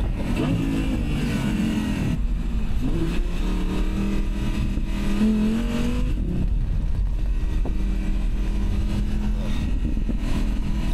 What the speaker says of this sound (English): I'm thrashing around in a V10 Spyder.